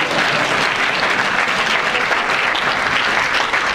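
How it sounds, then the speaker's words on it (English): A large crowd at a talk claps enthusiastically, a dense continuous wash of applause that stays loud and steady from start to finish with no talk over it. "let's clap for the gay people."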